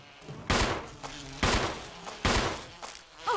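Gunfire from Jill shooting at bees in the Resident Evil HD Remaster game: three loud, sharp bursts spaced about a second apart, each trailing into a brief decay, with faint background noise between them.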